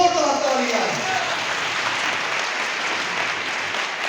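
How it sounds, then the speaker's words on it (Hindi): Enthusiastic applause from a church congregation praising Jesus fills the space, loud and steady throughout with broad clapping that holds without letting up, while a voice briefly sounds at the very start. "यीशु के लिए जोरदार तालियां।"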